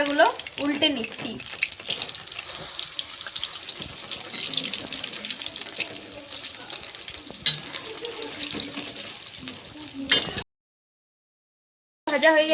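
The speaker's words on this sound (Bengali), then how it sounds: "ভাজা হয়ে গেছে, এরপর তুলে নেব এবং একই রকম ভাবে সবগুলো ভাজতে থাকবো।" Battered chicken pakoras fry in hot oil, a dense close crackling bubble running steadily for about ten seconds before a brief silence and a short return.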